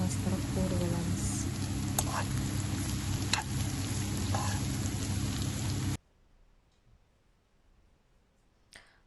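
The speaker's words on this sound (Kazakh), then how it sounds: "Сәбізімізді қосамыз, енді жақсылап араластырып қуырып аламыз." Grated carrot fries in a pan while being stirred, a steady close sizzle with occasional scraping clicks that cuts off abruptly partway through, leaving near-silence with a faint tap at the end.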